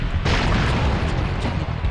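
A generator blowing up in the Spider-Man PS1 video game, a loud, sustained explosive roar that bursts in after a brief lead-in and rumbles on without pause for the rest of the moment.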